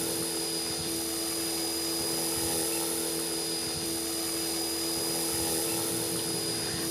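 Steady high whine and whirring rotor hum of an Align T-Rex 450 radio-controlled helicopter hovering nearby, unbroken for several seconds with no voices.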